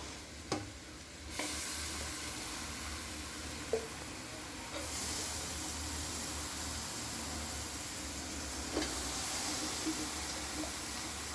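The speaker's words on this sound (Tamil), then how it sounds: "நம்ம மேக்னேட் பண்ண வச்ச சிக்கனை இதில் போடுவோம்." Chicken marinated with turmeric and salt dropped into a hot pan for chicken gravy, a close, steady hissing sizzle that swells partway through, with a few sharp clinks of utensils.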